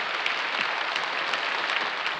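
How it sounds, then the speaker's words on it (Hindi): Audience applause at the Sabrang Awards 2021 show, a dense continuous wash of clapping from a large crowd, steady and even throughout with no talk over it. "जोरदार तालियों के।"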